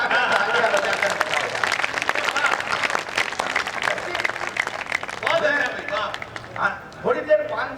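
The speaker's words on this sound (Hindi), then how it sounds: "दोनों हाथ ऊपर उठाकर तालियां बजाकर" Audience at a Hindi kavi sammelan poetry gathering held by Bharat Vikas Parishad, clapping in a loud, dense burst that fades out after about five seconds, followed by someone speaking over the room.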